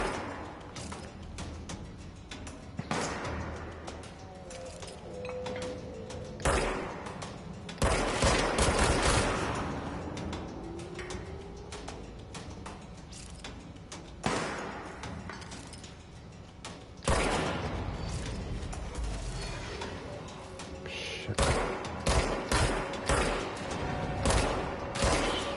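Heavy gunfire in the video game Control: dense bursts and sharp rifle shots crack repeatedly, loud and near, with sniper fire among the barrage and brief pauses between volleys.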